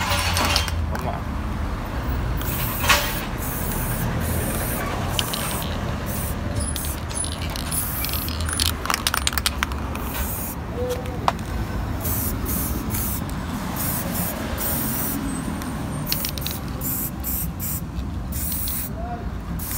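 Aerosol spray paint hissing onto the brake drum bolts of a Volkswagen Amarok in a workshop, in long continuous bursts with short clicks and clatter, close and loud, with someone talking intermittently.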